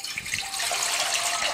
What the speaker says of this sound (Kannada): ಇದಕ್ಕೆ ನೀರು ಹಾಕೋತೀನಿ.